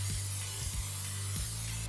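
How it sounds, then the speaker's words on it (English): Cooking spray hisses steadily into a 5-quart casserole dish, a close, continuous spray lasting about two seconds over a low background hum. "Spray it up, no stickies."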